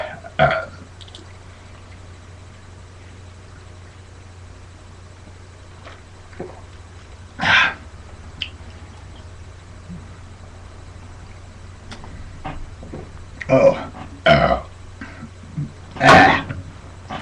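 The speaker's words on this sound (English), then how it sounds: "Can't even get a pure burp off of this." Four loud, rough burps erupt one at a time, the first alone and the last three bunched close together near the end, each separated by near-quiet stretches with no talking.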